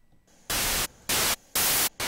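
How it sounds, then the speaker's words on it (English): Noise source in the Xfer Serum synthesizer playing an AC hum style static, heard as four loud, abrupt bursts of broadband hiss separated by near-silent gaps in an uneven on-off rhythm. "is their noises from various sources. So AC hum and"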